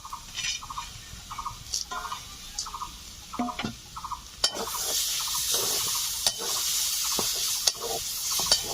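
Taro leaves with fried peanuts being stir-fried in a pan, a rhythmic scraping of the spatula over a soft sizzle. The frying grows louder and denser in the second half, with sharp clicks between strokes.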